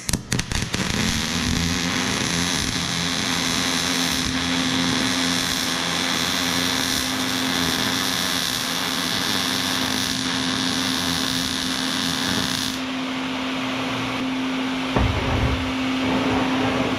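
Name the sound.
grinding a weld edge smooth on a birdhouse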